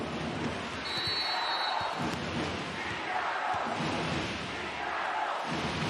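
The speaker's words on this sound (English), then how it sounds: "Crowd getting fired up again." Crowd at a Milano versus Fenerbahce volleyball match in the CEV Champions League, a broad steady roar of cheering fans filling the arena with occasional thuds and a commentator talking over it.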